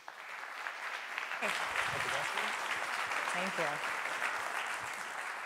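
A design leadership summit audience bursts into sustained applause for a speaker, a broad even roar of clapping, with a voice talking over it midway.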